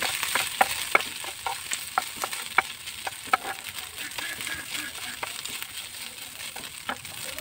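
Grated fish frying in a pan with ginger, a steady soft sizzle broken by a series of sharp scraping clicks as it is stirred.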